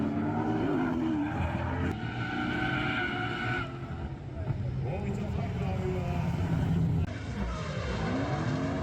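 A race car skids into a tire barrier during round 3 of a CDC race, with loud engine roar and tire skidding running throughout under excited commentary.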